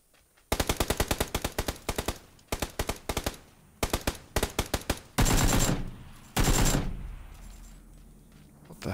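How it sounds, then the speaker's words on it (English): Automatic gunfire in PUBG on Xbox One crackles in rapid bursts of sharp shots, several volleys separated by short pauses, followed by two longer, heavier blasts that trail off. "Is that gun just going off?"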